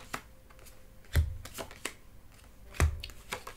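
Tarot cards handled and rearranged at close range, with soft riffling and sliding, two sharper taps as the deck is squared on a surface, quiet and intimate.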